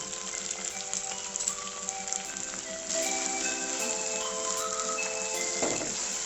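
Cumin paste sautés in a pan for a jackfruit and prawn curry, giving a steady soft sizzle and crackle throughout, with faint scraping and clinks and a slightly louder stretch in the second half.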